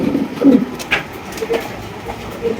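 A male Black Gold Archangel pigeon coos close by in low, rounded throaty bursts, with a few softer coos following, no talk.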